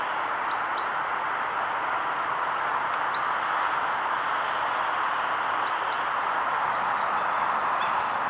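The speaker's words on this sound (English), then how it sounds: "There's a very quiet song thrush here." A song thrush sings quietly at a lake, its short repeated phrases faint and distant over a steady broadband background hiss, with no voices.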